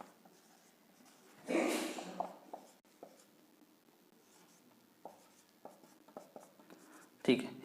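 Pen writing letters on paper during a reasoning lesson, a long scratchy stroke early and a scattering of short faint ticks and scrapes afterward, ending with another brief scrape, close and quiet.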